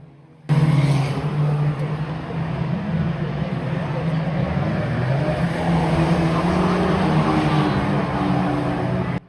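Stock cars racing at Cowdenbeath Racewall, a dense continuous roar of several engines at close range, swelling and easing as cars pass through the bends, with no speech.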